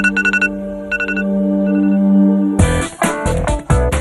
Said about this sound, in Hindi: सुबह सुबह अलार्म बजने की ये आवाज